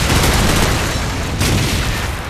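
Gunfire aimed at a building in the Call of Duty 4 video game comes as a loud, dense barrage of booming shots that runs continuously, with only a brief dip before it resumes.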